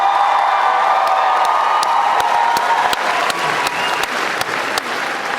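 Loud, sustained audience applause at a Warehouse 13 convention panel, a dense crowd roar with scattered cheers and whoops. It thins toward the end, leaving distinct individual claps standing out.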